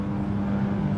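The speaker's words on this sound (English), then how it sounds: "that's a plane, not a car or a truck." A low, steady droning rumble of an airplane passing overhead, constant and moderately loud across the whole moment with no voices.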